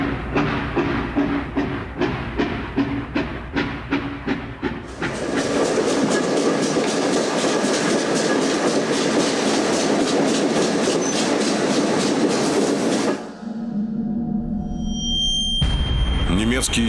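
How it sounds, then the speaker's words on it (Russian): Military troop trains of the Stalingrad era roll along the rails with a loud, rhythmic clickety-clack that quickens into a dense, roaring rumble before cutting to a quieter passage with a high tone. "Составы двинулись к Дону."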